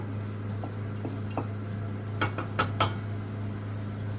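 Lemon rice sautéed with fresh lemon juice in a pan, scattered light clinks and scrapes of a utensil against the metal, a quick cluster near the end, over a steady low background hum.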